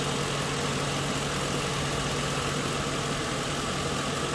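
A car engine runs steadily after a power steering pump was installed without removing the pulley, giving a constant, fairly loud hum and faint vibration with no talk.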